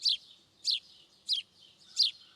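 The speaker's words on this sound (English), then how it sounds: "The house sparrow is the bird from Europe that we saw earlier that has a rather simple song." A house sparrow, a European bird common on city streets, sings four short bright chirps at a steady spaced rhythm, fairly close and clear against a quiet background.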